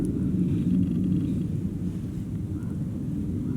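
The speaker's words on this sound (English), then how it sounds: "But that up there is an F-16, you guys." An F-16 fighter jet flying overhead gives a steady, loud low rumble with wind noise, continuous and unbroken throughout.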